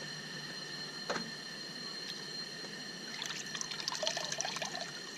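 A Zodi camp shower runs warm water, trickling and splashing quietly over a steady mechanical hum, with a few soft clanks and brief bursts of spattering toward the end.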